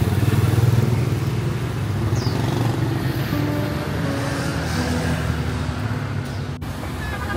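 Motorcycles crowd a Hanoi street in a steady, close engine drone with overlapping motors passing, a sharp clack near the end, and no talk over the traffic.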